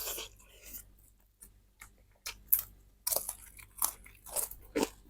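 Crispy homemade food is bitten and chewed up close, producing a series of loud, irregular crunches separated by short quiet gaps.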